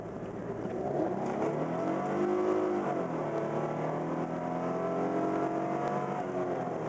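Car pulling away and accelerating, a steady close engine whine that rises in pitch, dips briefly, then climbs again, with no talking.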